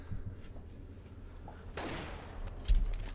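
A burst of gunfire in a Counter-Strike match lands a headshot during a tournament game: a sharp crack of shots midway, then another short loud report near the end, over a low background rumble.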